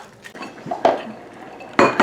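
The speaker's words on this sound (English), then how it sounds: "Going to stir this up and let it cook a bit" Tomatillo salsa is stirred in a cooking pot, with a spoon clinking and scraping against the metal in a few loud, uneven knocks, close up and without speech.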